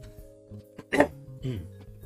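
A single short, rough throat clear rises sharply in the middle of a quiet indoor stretch, with a faint electronic hum and a softer follow-up rasp after it.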